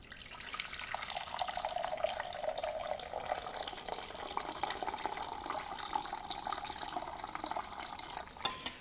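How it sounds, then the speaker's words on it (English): Bouillon pours steadily into a soup pot for a mushroom soup with dry sherry, a continuous close liquid splash and trickle lasting throughout with no talk. "So here's a liter of bouillon, and I'm going to add another half liter."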